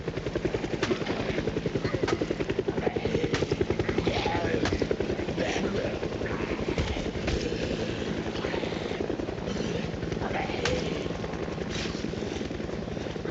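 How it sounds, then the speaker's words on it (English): In a video game, a helicopter thumps steadily overhead, its fast rotor chop loud and continuous throughout, with a voice speaking at times beneath it. "That chopper is loud."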